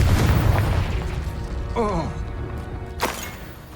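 A Confringo fire spell bursts in Hogwarts Legacy with a deep rumbling boom, followed by a short swooping magical tone and another sharp blast, all over a low roaring game background.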